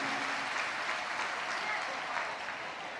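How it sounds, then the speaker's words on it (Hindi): Sustained, dense applause from a large audience welcoming a revered guest at a Shiv Mahapuran religious discourse in Varanasi, steady and loud throughout with no break, a broad crowd roar filling the whole stretch. "एक बार जोरदार ताली बजाकर स्वागत वंदन अभिनंदन है।"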